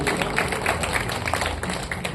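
An audience at a Hindi humorous poetry gathering claps in a brief, dense burst of applause, loud and close, with some faint voices in the mix.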